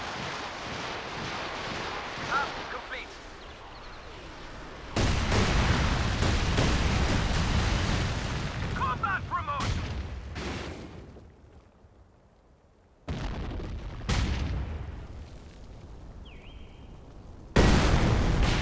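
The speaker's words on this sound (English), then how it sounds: "So I'm going to test these napalm rockets against some British emplacements." Napalm rockets slam into British emplacements in the real-time strategy game Company of Heroes 2, a series of loud, close explosive bursts and sharp impacts with rumbling, fiery decay between them.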